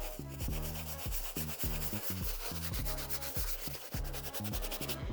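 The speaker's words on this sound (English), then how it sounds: "I'm gonna go back one more time with our soft bristle brush" A soft bristle brush scrubs a pair of destroyed Reebok shoes, producing a close, rhythmic series of short rasping strokes, repeated quickly and evenly with no talk.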